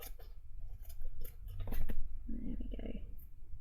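Paper being trimmed with scissors during mini-album crafting: a few close crisp snips and rustling paper, alone without talk.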